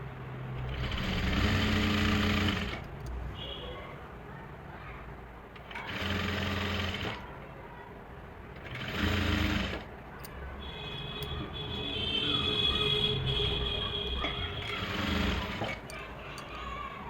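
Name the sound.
sewing machine stitching suit lining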